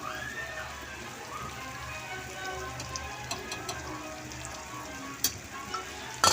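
A spice mixture with chilli powder sizzles and fries in a pan, a steady crackling hiss with scattered pops and a sharp clink near the end.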